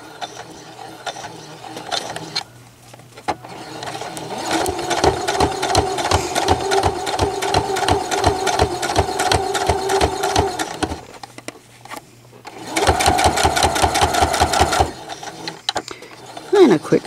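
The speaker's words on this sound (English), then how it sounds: "And a quick stay stitch." A sewing machine stitches a fabric bowl cozy in two bursts of rapid rhythmic clattering, a long run and a shorter one, with someone talking in the quieter gaps.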